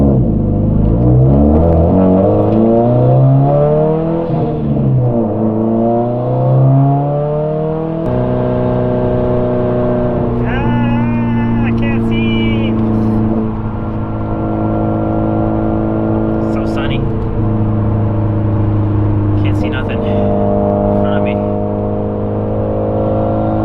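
A 2017 Subaru WRX STI with Whiteline bushings driving twisty back roads, engine tone rising and falling through gear changes under steady cabin drone, with a few short high squeaks over the loud, close interior sound.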